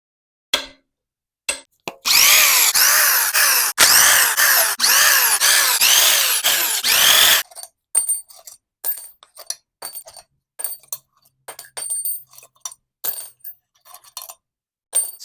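Cylinder head bolts on a Ford SVT Cobra 4.6 DOHC V8 coming out under a loud power tool, running in several long, close bursts over about five seconds, followed by scattered clinks and clatter of loose metal parts.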